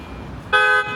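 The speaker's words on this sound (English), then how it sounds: "That car literally just honked at me." Single short car horn blast on a downtown Toronto street, loud and close, lasting about a third of a second over a low murmur of city traffic.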